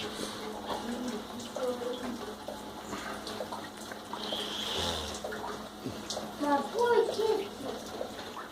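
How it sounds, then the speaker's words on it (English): Water sloshing and splashing underfoot as someone wades through a flooded apartment with a destroyed kitchen, a steady wet churn with brighter splashes toward the end, with people talking over it. "Walking through the water."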